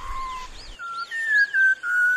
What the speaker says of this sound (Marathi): सह्याद्रीच्या खोल दरीतून शीळ कस्तुराची सुरेल शीळ कानावर पडते आहे.